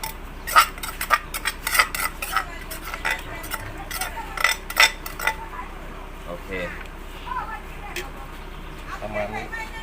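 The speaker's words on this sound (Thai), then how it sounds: "ตักทั้งหมด ใส่หม้อ ที่เตรียมไว้นะครับ" Food being scooped with a utensil into a cooking pot while preparing a Thai dish, a series of close metallic clinks and scrapes, sporadic and uneven, with someone talking over them.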